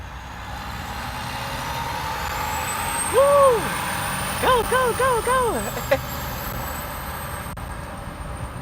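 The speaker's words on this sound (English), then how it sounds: "That cement truck was going." A loud cement truck roars past close by, its engine rumbling and air brakes hissing, with a long falling whine and a string of honking blasts while a person shouts over it.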